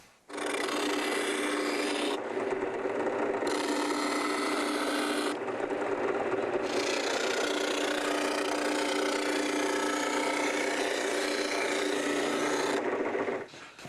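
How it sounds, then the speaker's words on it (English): Spindle sander mounted in a drill press sanding a wooden mold template for an LMI side bender, giving a steady close rasping grind that runs continuously with brief shifts in tone as the piece is worked along the profile. "I'm going to sand this right up to the line all the way around my profile"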